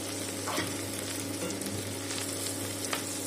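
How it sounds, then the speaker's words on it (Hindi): Sliced onions fry in oil for chicken changezi, browning toward golden, with a continuous close sizzle and a few faint stirring clicks, no talking. "प्याज को हम अच्छे से फ्राई कर लेंगे, जैसे अच्छे से गोल्डन फ्राई हो जाए"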